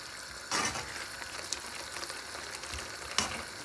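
Kalakand mixture dries in a hot pan, giving a soft, steady sizzle with a few louder scraping stirs, close and faint, with no voices.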